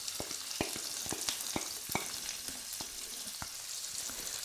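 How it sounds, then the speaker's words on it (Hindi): A medium-size onion frying in a pan for a cauliflower and green pea curry, a steady close hiss of sizzling oil broken by sharp spoon clicks and stirs, with no talking. "अब इसके बाद हम इसमें डालेंगे एक मीडियम साइज़ की प्याज।"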